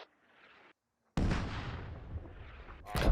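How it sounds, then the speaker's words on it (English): Mortar rounds from militia forces land about 30 meters away in the military shooter Arma 2: Operation Arrowhead, a single loud explosive impact followed by a long rumbling decay, with a second sharp burst at the end. "So militia mortars are landing about 30 meters behind"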